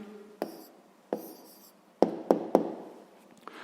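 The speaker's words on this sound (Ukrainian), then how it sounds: "записуємо відповідь" An answer is written by hand for a sixth-grade math exercise. Soft pen scratching is punctuated by several sharp taps and knocks against the writing surface, close and quiet, with no speech.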